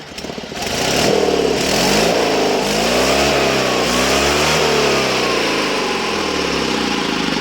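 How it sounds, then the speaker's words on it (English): The small two-stroke engine of a Sears Suburban SS16 lawn tractor revs up and runs steadily at a loud, buzzing pitch, fluctuating slightly in speed throughout. "engine runs great. I got 2-stroke gas mixed in it"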